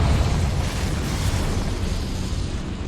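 A Confringo blasting spell explodes in the Hogwarts Legacy video game, giving one dense, loud roaring blast that fades slightly over three seconds.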